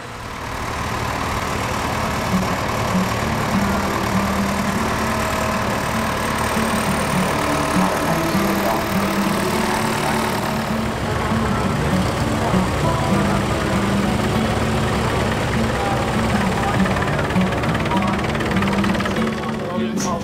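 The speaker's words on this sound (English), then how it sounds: "this older Case with hydroshift is able to keep up with the speed changes of the hydrostatic drive newer class Jaguar forage harvester." Older Case tractor with hydroshift working alongside a newer-class Jaguar forage harvester with hydrostatic drive, a steady heavy engine drone running throughout at constant loudness, with talk over it.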